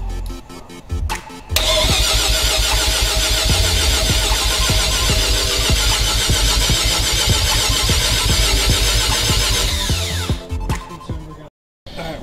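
A 1988 Mazda RX-7 FC3S with a Haltech Elite 1500 and a big turbo cranks briefly, then fires and runs loud and rough for about nine seconds before cutting off abruptly.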